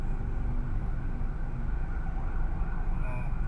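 An ambulance siren at the scene of a motorcycle crash on a city street, a steady wailing tone held over rumbling traffic noise for the whole stretch, with no talk.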